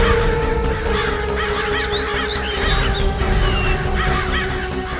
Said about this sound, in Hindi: बहुत सारे कौवे भी मंडरा रहे हैं